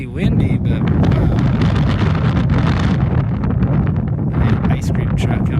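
Strong wind gusting across the microphone at Zion National Park, a loud continuous low roar and buffeting that persists throughout, with people talking faintly in the background.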